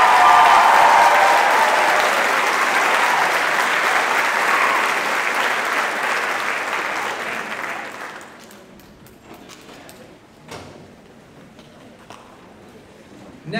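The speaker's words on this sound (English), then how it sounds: "Can you give one more round of applause?" Loud sustained audience applause at a high school concert for about eight seconds, then fading to scattered claps and quiet room noise.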